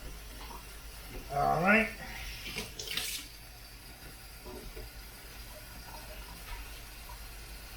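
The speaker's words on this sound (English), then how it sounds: "So it's going to take me a little bit of time to fill it up with up to 6 gallons of water." Cold tap water runs into a brewing pot for a homemade Mexican-style beer, a short gushing burst near the start that fades to a quiet trickle, with a brief spoken remark over it.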